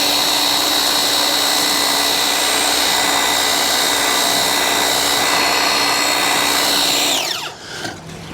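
A DeWalt cordless power washer sprays steadily and loudly with a whining motor tone for about seven seconds, then cuts off abruptly, leaving a brief sputter.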